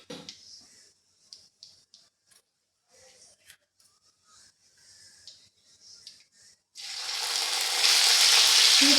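Mustard seeds and cumin hit hot oil, starting with scattered small pops and crackles, then swelling into a loud, steady, hissing sizzle for the last few seconds, close up.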